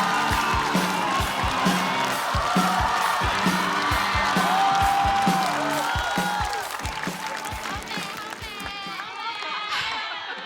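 A stand-up comedy show audience bursts into loud applause and cheering for a comedian taking the stage, with rhythmic thumping beats and music under the clapping before it fades.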